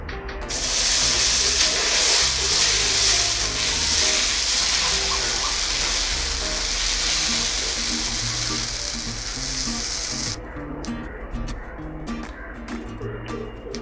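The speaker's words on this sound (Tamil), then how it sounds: "சூடானதும் நம்ம இப்போது தோசை ஊற்றிக்கலாம்." Dosa batter sizzles loudly on a hot griddle, a steady bright frying hiss that holds for about ten seconds, then settles into softer crackling.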